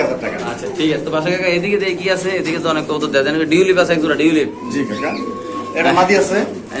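Pigeons coo among a crowd of talking people at a bird market, the soft repeated coos blending with busy chatter and haggling voices close by.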